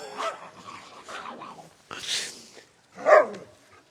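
A puppy on a farm barks and whimpers in a few short, close bursts, with a sharper yelp near the end.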